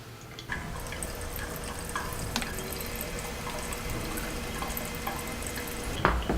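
Hot water trickling steadily through a Kalita Wave pour-over coffee dripper, a soft, even flow close by with faint drips and no talking.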